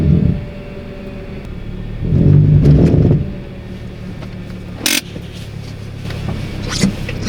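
A crash-damaged Honda car's engine idles with a low, uneven rumble while driving a short distance, swelling into a rougher surge for about a second before settling back, with a sharp knock partway through.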